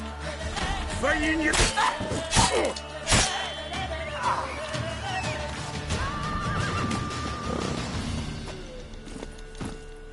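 A horse in The Witcher 3: Wild Hunt whinnies loudly up close, with clip-clopping hooves, a few thuds and game music underneath.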